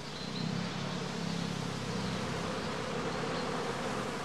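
A dense, continuous swarm-like hum of honeybees flying out of a straw skep hive at a house apiary, steady and close throughout with no voices.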